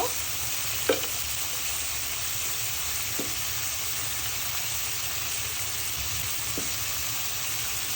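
Spices with turmeric and chili powder sizzle steadily as they are stir-fried in a pan for cabbage and beef curry, with a few light utensil scrapes and taps over the close, continuous hiss.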